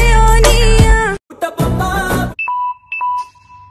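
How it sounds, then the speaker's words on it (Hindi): A phone's low-battery alert sounds as two clear, ringing dings in a row, following a stretch of loud music with singing. "battery low"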